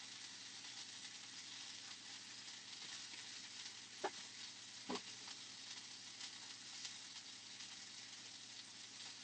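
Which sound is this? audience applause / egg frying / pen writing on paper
egg frying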